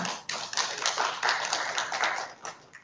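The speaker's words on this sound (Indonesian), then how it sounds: "Mari kita beri aplaus atas kekompakan solidaritas kita bersama." Audience applause at the closing of a national Muslim youth mosque festival, a crowd clapping in a steady, dense patter, fairly close and moderately loud.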